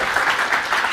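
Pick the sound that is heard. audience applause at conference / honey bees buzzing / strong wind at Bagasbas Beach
audience applause at conference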